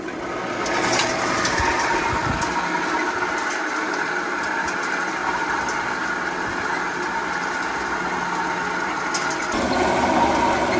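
Motors of a gold mining wash plant with a jigging sluice run continuously at a Canadian placer site, a loud steady mechanical drone with rattling and grinding from rocks and water, unbroken throughout.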